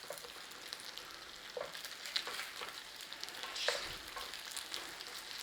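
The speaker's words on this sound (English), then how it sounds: "you fry it off in a little bit of butter in there" Pierogi dumplings fry in butter in a pan with a steady sizzle, punctuated by occasional stirring and scraping sounds; close and moderately loud, with no talking.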